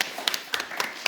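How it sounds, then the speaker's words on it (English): A few scattered, sharp hand claps from a small audience thanking speakers at an early-warning conference session, fairly near and irregular, over a quiet room. "please give them a warm applause"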